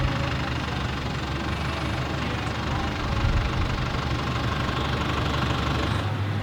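A tractor engine runs steadily in a rural setting, a continuous low, rough mechanical rumble that stays loud and even throughout with no pauses.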